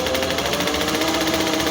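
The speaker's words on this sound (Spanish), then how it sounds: "Y vamos cosiendo." Sewing machine stitching satin fabric into a scrunchie, a steady close mechanical whir with rapid even needle chatter running unbroken throughout.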